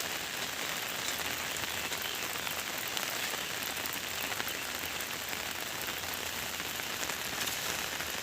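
Steady, dense rain pours down during a camping trip, a continuous even hiss of drops striking surfaces nearby, with no voices.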